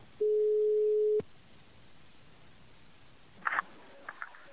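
Telephone line tone during a prank call, a single steady beep lasting about a second, followed by quiet line hiss and a few faint clicks and chirps.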